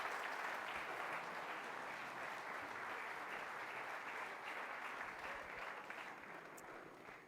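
An audience at a mayor's New Year ceremony in Port Saint Louis du Rhône applauds steadily, a dense, even wash of clapping that holds for several seconds and then tapers slightly, with no voices over it.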